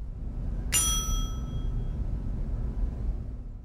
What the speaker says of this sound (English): I guess we're going to have to ring the bell for proper service.